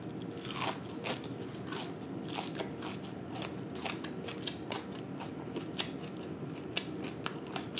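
Loud, close crunching as crispy whole fried fish is bitten and chewed, sharp crackly bites repeating irregularly over several seconds with no talking.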